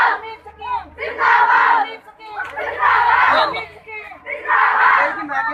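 Crowd of Anganwadi workers and helpers on an awareness rally in Mandi tehsil chanting slogans in loud bursts, three surging waves of voices with brief lulls between.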